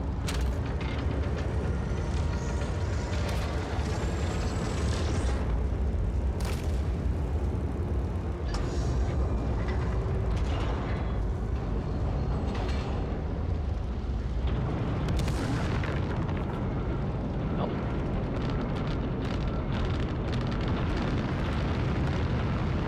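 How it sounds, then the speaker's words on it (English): Heavy explosions rumble through a Once Human game battle, a continuous loud, booming roar with sharper bursts and cracks breaking out over the whole stretch. "Something exploded."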